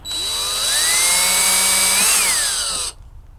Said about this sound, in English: Then we'll be drilling our pilot hole right into the center of that mark we made.